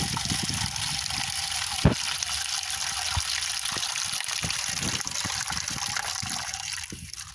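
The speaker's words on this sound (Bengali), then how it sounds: "বন্ধুরা, এখন আমরা এখানে পানি দিয়ে নেব।" Water poured from close by into a small clay basin lined with blue plastic, built as a doll's swimming pool, a steady gushing splash with a few sharp knocks, running throughout and easing at the end, with no talk.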